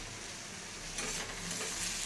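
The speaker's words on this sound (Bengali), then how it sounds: "ভাজাটা বসাচ্ছি" Squash, onion and green chilli fry in a pan, producing a faint, steady hiss that swells slightly after a moment and carries on evenly.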